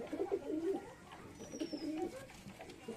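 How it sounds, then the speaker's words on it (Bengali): Giribaz pigeons perched on a coconut tree give repeated low, throaty coos in soft rolling phrases, moderately close, with a faint high whistle passing briefly in the background. "এখানে নারকেল গাছে বসে আছে কিছু কবুতর, আর কিছু কবুতর উড়ছে, আপ ডাউন করছে।"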